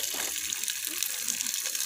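Water runs steadily into a Pepsi bottle being filled outdoors, a close continuous gushing trickle.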